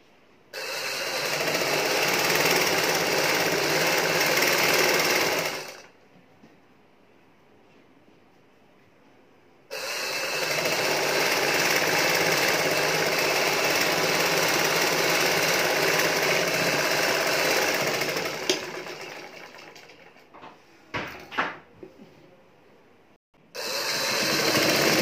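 A sewing machine runs loud and steady while stitching cloth for a kurti, whirring in two long bursts separated by a pause, then a few short stops and starts near the end, with no talking.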